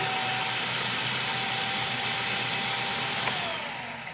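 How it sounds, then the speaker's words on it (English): A food processor chopping garlic runs with a steady, loud motor whir and blade hum that winds down near the end. "you notice how really quickly it actually chopped up that garlic"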